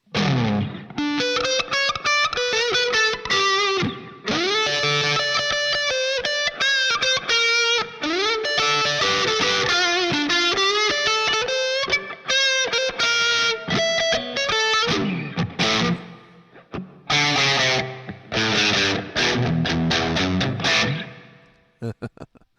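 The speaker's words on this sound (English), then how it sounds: "Let's hear it with the tube driver." An overdriven electric guitar through a tube driver effect on a Line 6 POD HD500 Vox AC-30 amp model, with a warm, crunchy drive tone, plays chords and single-note runs, loud and continuous with brief pauses near the end.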